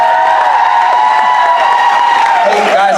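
An audience claps and cheers for a performer named Billy, steady applause under a loud voice and sustained tones.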